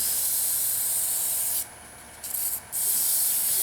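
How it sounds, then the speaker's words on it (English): Sandpaper at 320 grit rubs over a turned wooden globe Christmas ornament, a steady close hiss that breaks off briefly twice before resuming. "This is the hardest spot to sand, right in here at that transition."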